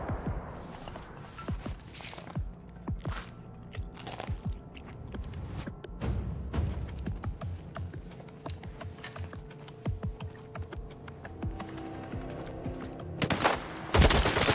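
Rifle gunfire in S.T.A.L.K.E.R. 2, an AK-47 style weapon, with repeated sharp shots and short bursts over about fifteen seconds, mixed with footsteps and a busy combat background, loud and close.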